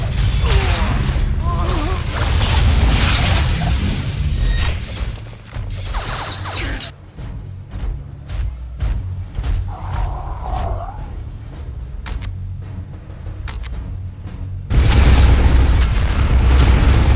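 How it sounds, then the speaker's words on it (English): Heavy booming explosions and mechanical battle noise from Eldar enemy fire in the real-time strategy game Warhammer 40,000: Dawn of War – Soulstorm, loud and dense at first, thinning to scattered sharp hits, then returning as a loud roar near the end. "Incoming enemy fire."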